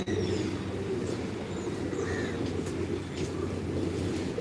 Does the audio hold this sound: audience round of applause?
no